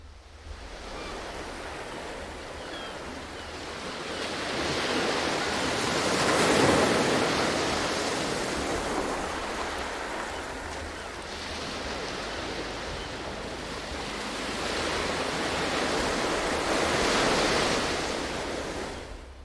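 Ocean waves roll in and break on a beach shore in a steady wash of surf, swelling and easing twice as the breakers crash, with no voices over the continuous roar.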